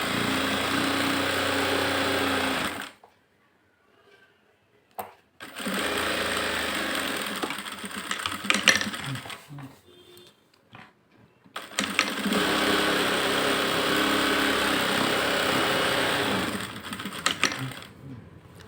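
Electric sewing machine stitching a normal blouse, running in sustained bursts with brief pauses between seams, fairly close and steady.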